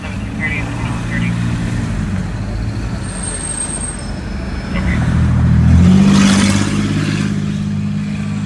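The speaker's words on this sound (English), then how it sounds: "Loud muffler." Car with a loud muffler revving in traffic, a low engine rumble that swells to a stronger roar near the end, with people talking throughout.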